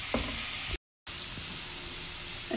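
Garlic frying in a pan gives a soft, steady sizzle with occasional light crackles, broken by a brief silent gap, with no speech.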